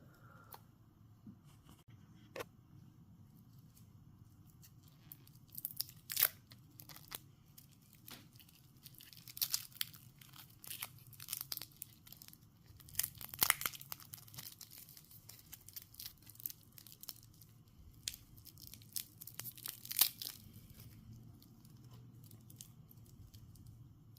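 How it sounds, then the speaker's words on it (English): Plastic wrapping being torn and peeled off a Henry Archer Havstrom Meteorite Atlas watch, giving quiet, close crinkling and tearing in irregular bursts over a low steady background hum. "plastic on it. All right, let's get this unwrapped."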